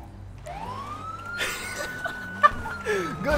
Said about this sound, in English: I just see the sirens in code 3, dude.